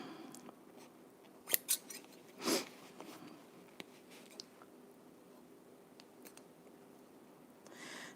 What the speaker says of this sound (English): These are Ginger scissors.